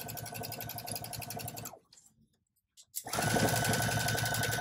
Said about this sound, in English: we're just gonna put our foot down and we're gonna sew a half inch seam